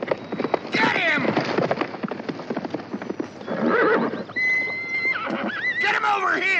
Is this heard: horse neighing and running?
yes